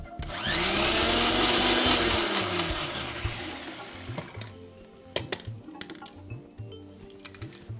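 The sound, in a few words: blender grinding chutney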